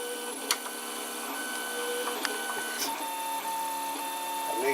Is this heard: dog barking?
no